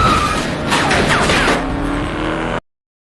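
Gunshots fired at a car in the action film Faster ring out as a loud, dense burst of gunfire mixed with engine and impact noise, ending abruptly in silence.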